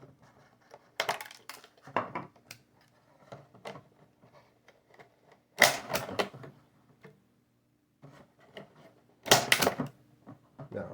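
A hand stapler punching through thick plastic for a homemade minnow trap, with several loud, close metallic clacks and crunches separated by quieter handling noises and brief pauses.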